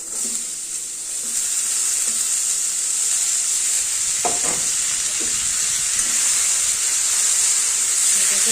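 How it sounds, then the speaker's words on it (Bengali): Chopped ash gourd frying in a pan of oil with turmeric and salt makes a constant loud hissing sizzle, with a few brief stirring scrapes and clinks partway through. "চাল কুমড়ো কুচিগুলো এর মধ্যে দিয়ে দেবো"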